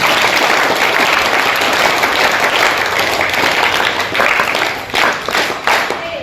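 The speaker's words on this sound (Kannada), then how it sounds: "ಜೋರಾಗಿ ಚಪ್ಪಾಳೆ ಹೊಡೆದಿತ್ತು" A crowd at a birthday celebration applauds steadily, dense clapping filling the room loudly from start to finish, with a slight swell near the end.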